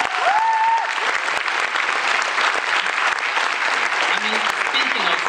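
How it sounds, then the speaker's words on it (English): Audience applause at a sci-fi convention Q&A, a full steady round of clapping from a sizeable crowd throughout, with a few brief voices and whoops rising above it. "That's worth an applause."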